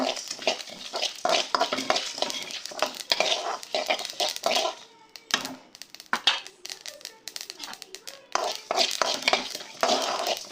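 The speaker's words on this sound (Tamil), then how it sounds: "தனியாக மிளகு மிளகாய் இதோட வாசனைலாம் மாறுற அளவுக்கு நம்ம நல்லா வறுத்துக்கலாம்" Pepper and dried chillies dry roasting in a pan over medium flame give dense crackling, scraping stir strokes in bursts, easing off briefly mid-way before resuming, with some voice in the background.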